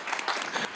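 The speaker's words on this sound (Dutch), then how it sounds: "Dan toch een mager applaus" Sparse applause breaks out from a studio audience at a Samson & Gert anniversary special, a thin patter of claps lasting under a second.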